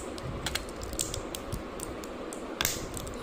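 Plastic retaining pins being pried out one by one from under a MacBook Pro space bar, giving faint, close, irregular clicks and small creaks against a steady low background hiss, with one sharper snap near the end.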